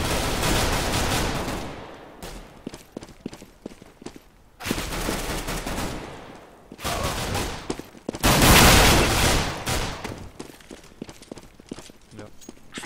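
Bursts of M4 rifle fire from a CS:GO match crackle in repeated loud volleys separated by brief gaps, with footsteps and game sounds between them.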